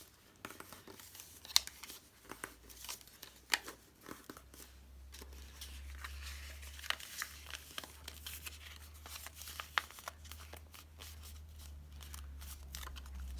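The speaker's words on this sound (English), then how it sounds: "So then we can fold those flaps down." Paper flaps fold and crease by hand on a flip-out pocket craft project, with soft, close crinkling and sharp rustles over a faint low hum.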